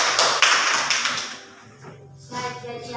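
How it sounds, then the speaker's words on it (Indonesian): A school classroom claps for a student group after their chemistry presentation. Loud, dense clapping fills the first seconds, then thins and fades. Scattered claps and room noise follow, with a brief voice near the end. "Ya, kita berikan aplaus kepada kelompok 2."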